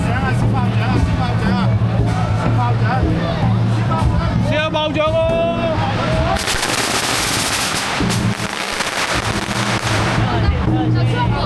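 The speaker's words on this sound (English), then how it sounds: "they're gonna do the firecrackers again" Rapid crackling bursts of firecrackers go off in loud, dense volleys amid crowd noise and excited voices in China.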